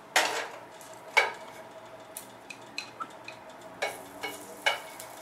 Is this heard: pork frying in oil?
yes